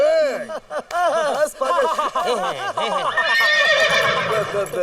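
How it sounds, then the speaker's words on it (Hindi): A white horse neighs in a comedic Hindi film scene, a loud run of repeated whinnies and snorts that rise and fall, with voices mixed in. "वैसे सर बहुत अच्छा घोड़ा है आपका।"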